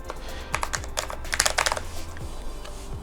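Typing on a keyboard fitted with Cherry MX Speed linear switches, a quick run of close, crisp keystrokes clustering in short bursts with brief pauses between them.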